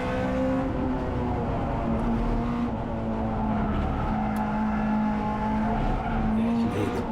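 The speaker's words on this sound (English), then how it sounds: "tyres complaining, he's just trying to change direction through all bends there" Honda Integra DC2 Type R racing at Cadwell Park, tyres squealing in a steady sustained whine over the constant loud engine drone of the car through the bends.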